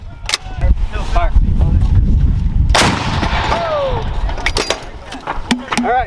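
M119A3 howitzers fire artillery rounds outdoors, sharp loud booms cracking out in an irregular series with rumbling echoes, while crew voices shout over the blasts.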